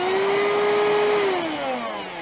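Hoover Fusion Pet cordless vacuum cleaner running close by, a steady motor whine that holds a constant pitch and then slides gently lower as it winds down near the end, with no one talking.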